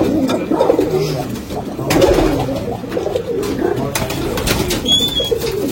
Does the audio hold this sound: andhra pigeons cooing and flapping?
yes